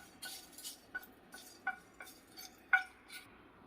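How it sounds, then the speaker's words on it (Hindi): Soft scraping and light metallic taps of a utensil stirring spices dry-roasting in a pan, irregular and fairly quiet, with no talking. "इसमें सारे मसाले को मिला दूंगी और इसे 1-2 मिनट में भून लूंगी।"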